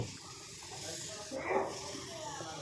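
A spray gun hisses as it sprays PU polish onto a sofa, a steady soft airy hiss with a brief louder burst midway.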